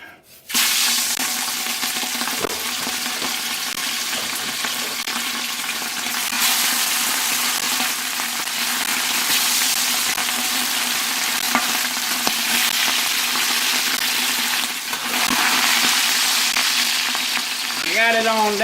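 Seafood fish pieces sizzle and sauté in hot oil over high heat, a loud continuous close crackling hiss that swells and settles for the whole stretch, with no talking.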